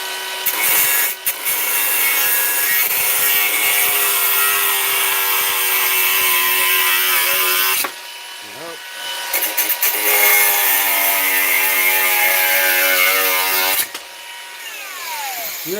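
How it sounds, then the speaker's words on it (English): An angle grinder trimming protruding ends on a homemade tapering jig, a loud continuous high-pitched whine broken by a short pause midway and a drop near the end, close up with no talking. "I'm going to trim these off a little bit with the grinder"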